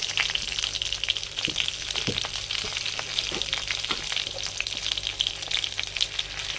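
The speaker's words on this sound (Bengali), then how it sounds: "এবারে ফোড়নের জন্য দিয়ে দেবো আমি জিরে, গোটা জিরে। আর দিয়ে দেবো 4টে কাঁচা লঙ্কা।" Whole cumin seeds and four green chilies frying in hot oil for tempering in a village-style kohlrabi dish: a dense, continuous, close sizzle with small crackles and a few stirring knocks.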